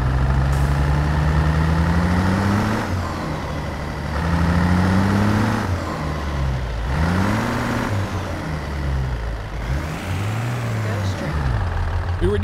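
A big rig truck's engine in American Truck Simulator heard from the outside view, a steady loud drone rising and falling in pitch through repeated gear shifts and revs across the whole stretch.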